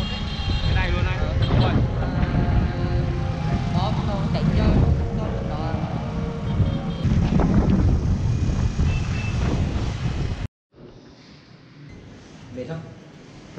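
Strong headwind roars across the microphone while cycling along the seaside on a cross-country bike tour in Vietnam, a loud continuous buffeting that cuts out abruptly near the end, leaving a quieter, breezier tail.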